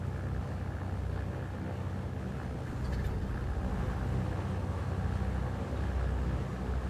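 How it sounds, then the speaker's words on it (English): Engines running on a three-engined Britten-Norman Trislander in Microsoft Flight Simulator, a loud steady low drone and rumble that continues throughout without pause. "you can start all the other engines in turn"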